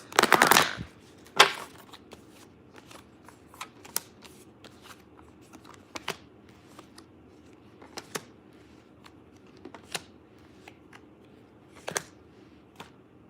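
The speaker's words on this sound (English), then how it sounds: "shuffle one more time." A deck of cards being shuffled, a dense riffle burst at the start followed by scattered light taps and flicks, close and quiet.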